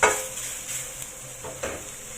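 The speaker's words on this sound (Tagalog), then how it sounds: "i-fry lang natin sandali bago natin ilagay yung ating chicken" Rehydrated dried mushrooms frying in a pan for chicken adobo, a soft steady sizzle with a few scrapes and clinks of stirring, close and moderately quiet.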